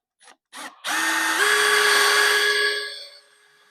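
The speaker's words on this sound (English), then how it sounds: "And drill your hole out." A power drill whirs up after a couple of short bursts, drilling a hole in a board, holding a steady high whine for about two seconds before winding down.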